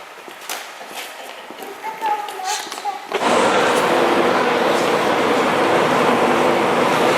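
Rail noise with clattering and a rumble builds, then a sudden loud, steady roar as a train passes close by at York railway station.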